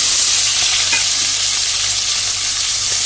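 Onion and tomato sauté with mustard seeds and curry leaves in hot oil in a pan, giving a steady, loud, close sizzle and hiss that runs without a break and carries no speech.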